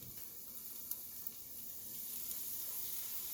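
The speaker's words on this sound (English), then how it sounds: "we're going to fry our mushrooms" Mushrooms frying in a hot pan for Korean bibimbap, a soft steady sizzle and hiss with a couple of faint clicks from a utensil, growing slightly louder toward the end.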